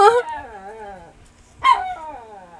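A dog lets out two close, whining, howl-like barks, the first trailing off into a wavering whimper and the second sharper, with nothing else over them.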